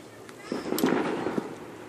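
Fourth of July fireworks popping and crackling in a short burst of several bangs, mid-distance, with people chattering over them.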